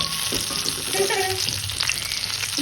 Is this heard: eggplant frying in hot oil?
yes